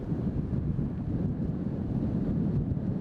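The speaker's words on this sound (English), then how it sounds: "35-mile-per-hour gust and sustained at least 25-mile-per-hour winds all day long" Strong gusting wind of about 35 mph blows across an outdoor disc golf course, a dense continuous roar buffeting the microphone with no pauses.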